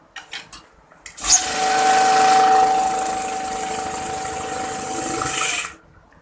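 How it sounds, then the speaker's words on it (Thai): A Uni-SMART US-7700U banknote counter runs steadily for about four and a half seconds, a loud continuous whirring hum with a faint tone, starting abruptly after a few soft handling clicks and cutting off cleanly. "ให้นำธนบัตรที่เตรียมไว้ใส่ลงไปนับได้เลยครับ"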